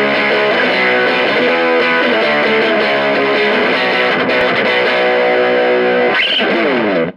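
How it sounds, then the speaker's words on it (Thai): An electric guitar plays through the distortion rock setting of a Valeton Dapper Mini pedal, giving thick, heavily saturated chords that sustain loudly and end with a brief bend. "1เสียงแตก distortion rock"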